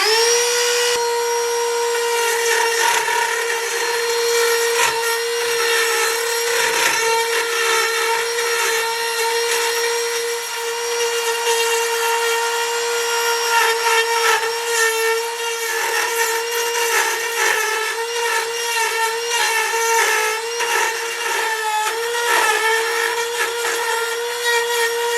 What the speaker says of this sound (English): I just tried to take the Dremel bit and just hollow it out a little more.